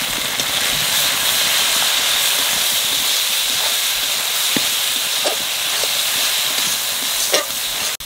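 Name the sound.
spices frying and sizzling in a pan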